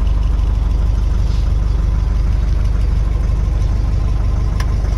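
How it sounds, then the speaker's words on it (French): A Renault Midliner truck engine idles close by, a steady, loud, continuous low rumble with a faint rattling texture and no pauses. "je sais pas si on va très bien m'entendre avec le bruit du moteur"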